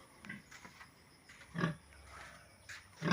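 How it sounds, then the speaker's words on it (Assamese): A sow and her twelve newborn piglets on a pig farm, with a few short grunts and squeals scattered over several seconds, fairly close but soft against a quiet background. "এইটো মাইকী গাহৰি।"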